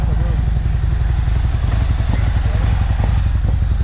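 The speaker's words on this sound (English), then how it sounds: "Chromeworks exhaust, louvered baffles, same setup that's on my bike." Harley-Davidson Street Glide with an SE 131 engine and Chromeworks exhaust with louvered baffles, idling loud and close with a deep, steady loping thump; faint voices sit in the background.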